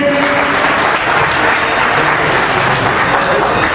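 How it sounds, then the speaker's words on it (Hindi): Applause welcoming a guest at a Vishwa Hindu Mahasangh gathering at Kalkaji Mandir, dense sustained clapping from a crowd, loud and even throughout. "सॉल एक बार ताली से स्वागत करेंगे।"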